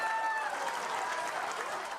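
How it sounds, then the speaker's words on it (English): Dense applause from hundreds of students lining school halls for a retiring janitor, a continuous wash of clapping with cheers and voices mixed in, fairly loud throughout. "Hundreds of students lining the halls, clapping and cheering"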